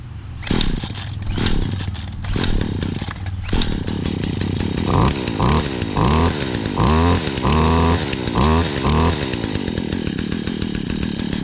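A new Stihl HT-56c pole saw's small two-stroke engine runs right after its first start, revving up and down in repeated bursts over a rattling idle, loud and close.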